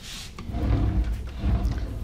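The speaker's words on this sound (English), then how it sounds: "Let's take a look at some of these drawers." A kitchen drawer in a house for sale in Henderson slides open or shut, a brief pair of soft rumbling thuds close by, with no talk.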